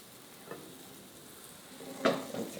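Crepe batter for caramelized dulce de leche crepes spreads in a hot pan being rolled in a circle, giving a faint, steady sizzle with one brief louder burst of hiss and scraping near the end.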